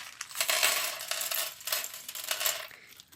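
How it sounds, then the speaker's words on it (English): Light plastic packaging of craft jewels crinkles and rustles continuously up close, with bursts of crackling rising and falling over a few seconds. "Sorry for the crinkling."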